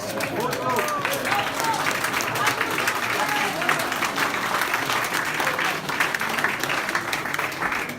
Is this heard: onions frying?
no